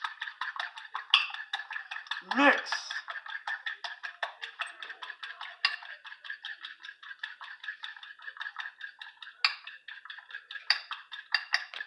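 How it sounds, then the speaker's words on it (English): Egg being mixed in a bowl for a turkey, egg and cheese bagel, a fast steady run of light metallic taps and clinks close by, with a brief voice-like sound early on. "Now mix the egg."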